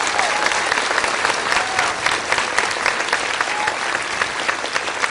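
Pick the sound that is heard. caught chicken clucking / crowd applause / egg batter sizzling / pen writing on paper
crowd applause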